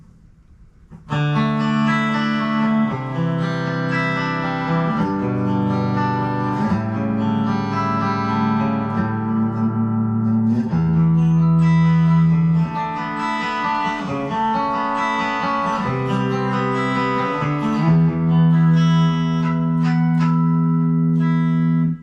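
Schecter Synyster Gates Custom S electric guitar on the middle pickup with a warm, clean tone, playing sustained chords and single notes, loud and near, ringing out with smooth, unhurried phrasing.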